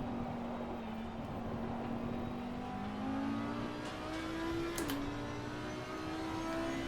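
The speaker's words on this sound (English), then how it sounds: "Now time for the Audi R8 GT3 car" An Audi R8 LMS GT3 race car engine in Assetto Corsa Competizione, holding a steady droning tone that climbs gradually, then a quick shift blip and a brief dip before it rises again, with no voices.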